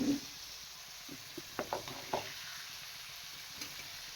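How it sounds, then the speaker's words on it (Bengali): Spiced beans frying in a pan, a faint sizzle with a few scattered spoon scrapes and taps, quiet and sparse. "এবার মা নেড়ে চেড়ে নিচ্ছে।"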